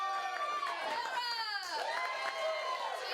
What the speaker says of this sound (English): Cheer really loud for who you want to survive the zombie apocalypse.